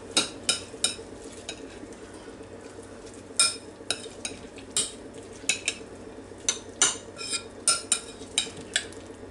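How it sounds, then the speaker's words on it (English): A spoon stirs ham salad mixed with half a cup of Mount Olive sweet relish in a bowl, giving sharp, irregular clinks and scrapes against the dish over a low, steady background. "stir it all together"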